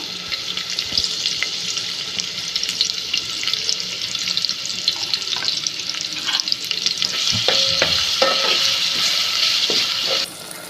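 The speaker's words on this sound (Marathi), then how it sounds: "चमचा कांदा टाकते बारीक चिरलेला" Finely chopped onion with curry leaves hits hot oil in a pan for veg biryani, giving a steady, close, loud sizzling crackle with occasional stirring scrapes and no speech.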